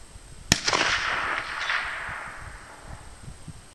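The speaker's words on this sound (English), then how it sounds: "Romanian AK, Hornady 123 grain spar point. Carefully aimed shot," A single sharp rifle shot from a Romanian AK firing Hornady 123-grain soft point ammunition at a target 250 yards away, loud and close, followed by a long rolling echo that fades out.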